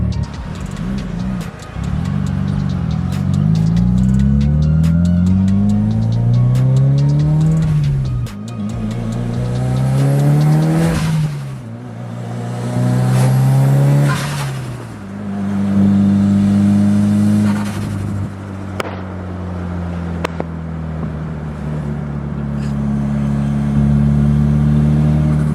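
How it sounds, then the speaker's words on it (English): A turbocharged Mitsubishi Lancer Evolution VIII engine with a test pipe accelerates hard through several gears, pitch climbing then dropping at each shift, loud and continuous from inside the vehicle. "maybe we can probably hear the turbo sound"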